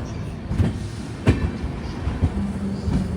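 The Himsagar Express rolls along after leaving Agra, a steady rumbling train ride with faint rhythmic wheel clacks and a few sharper knocks, heard from inside the moving carriage.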